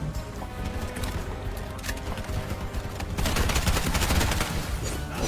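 Sustained gunfire in the mobile FPS Bright Memory Infinite, rapid automatic bursts crackling over game ambience, growing denser and louder in the second half.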